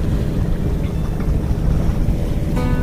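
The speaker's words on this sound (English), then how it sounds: "we're going to leave the sails up and go into Boulder Canyon under sail" Sailboat moving under sail on Lake Mead into Boulder Canyon: steady broadband rush of wind and water, close and constant, with heavy wind buffeting on the microphone and no voices.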